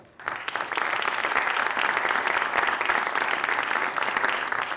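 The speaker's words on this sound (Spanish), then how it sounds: "le damos un aplauso, por favor" Dense audience applause at a university award ceremony in homage to Santiago Ramón y Cajal at the Cajal Museum, starting abruptly and holding steady, moderately distant with no talking.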